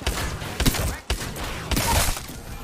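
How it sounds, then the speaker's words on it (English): Video game gunfire comes as two sharp, loud bursts with brief ringing tails, separated by a short pause. "Opening fire on the enemy."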